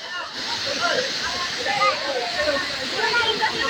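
Rushing water at Catmon Falls, a steady broad roar of falling water that stays constant throughout, with people talking and shouting over it nearby.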